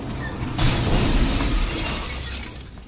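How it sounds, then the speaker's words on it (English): A chandelier crashes through glass in the video game Batman Arkham Asylum, a single loud close shatter that bursts in and then fades as the debris settles, with no voices. "Chandelier through the glass."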